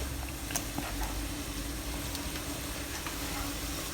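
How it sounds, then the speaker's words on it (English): Slices of fish fillet poach in a pot of water for Chinese rice noodles, a steady bubbling simmer with a continuous hiss and faint crackles throughout. "we'll put the pieces of the fish in"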